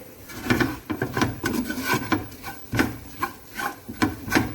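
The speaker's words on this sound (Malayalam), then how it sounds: "ഇനി അത് നന്നായിട്ടൊന്ന് മിക്സ് ചെയ്യുക." Lemon pickle with turmeric is stirred in a pan over a medium flame, giving a series of close, rhythmic scraping strokes of a spoon against the pan, each a short rasping sweep, with no voices.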